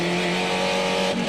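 A Spec Racer Ford race car engine roars steadily on the St. Petersburg street circuit, a loud sustained high-revving drone heard from an onboard position with no speech.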